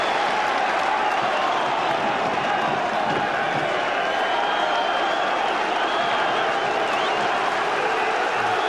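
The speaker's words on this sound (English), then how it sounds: "Stilian Petrov gets the applause from the Celtic fans who naturally have packed out that end of Tynecastle" Celtic fans packed into one end of Tynecastle applauding during a Hearts v Celtic football match, a continuous broad wash of crowd clapping and murmur from a large distant stadium crowd.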